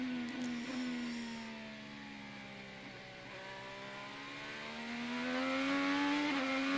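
An IndyCar race car engine screams from onboard at Barber, a steady high-revving whine that dips slightly through a corner and then climbs again under hard acceleration, loud and continuous.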